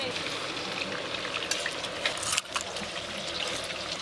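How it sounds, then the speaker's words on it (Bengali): Food fries in a pan in a home kitchen where chicken curry and a pointed gourd dish are being cooked. A steady sizzling hiss runs throughout, broken by a brief clatter midway, with faint background voices. "পপি, বাটা হয়ে গেল, তোমাদের ভাজা হলো?"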